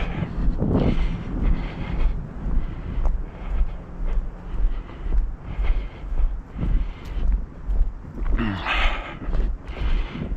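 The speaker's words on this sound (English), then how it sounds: "It's windy today." Gusty wind buffets the microphone in a steady low roar that swells and dips in waves, with a brief rustle near the end, outdoors on a walk in Maine.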